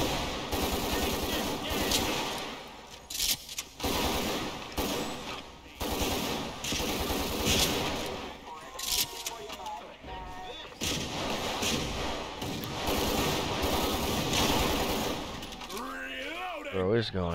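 Heavy gunfire in the GTA 5 video game, dense loud bursts of automatic and repeated shots rattling almost nonstop, with voices speaking over the shooting.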